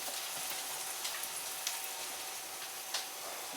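An egg and pancake fry in a pan with a steady, soft sizzle and a few faint pops and crackles, heard alone and without talk.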